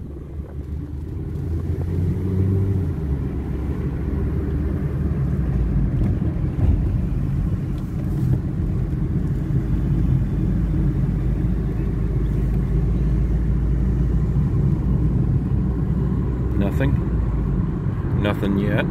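A Ford Focus with a fault that stops it moving forward, trouble code P0805, is driven on a local road, heard from inside the car as a continuous low engine and road rumble with some wind noise.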